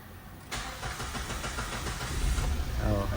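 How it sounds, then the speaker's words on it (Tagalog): A Kia Picanto with a hard-starting fault, its starter cranking the engine steadily and nearby for several seconds without catching, with a speaking voice briefly audible. "Oh, hard starting."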